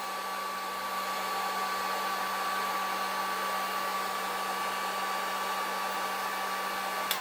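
A heat gun blows hot air in a steady, even whoosh with a faint high whine, running continuously and close by with no talking, during repair work on an 2008 Pontiac G6 GT 3.5.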